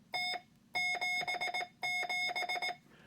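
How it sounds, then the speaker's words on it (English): Morse code tones keyed with a CW paddle, a steady electronic beep in clear dit and dah bursts grouped into three sending sequences, loud and close with no talking. "with this one, you can actually program it by sending stuff through the CW paddle"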